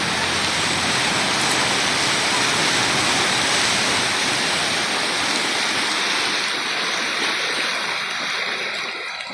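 Floodwater of the Tullahan river during Typhoon Ondoy rushes in a loud, unbroken roar of churning water, close and powerful throughout, easing only slightly toward the end, with no voices.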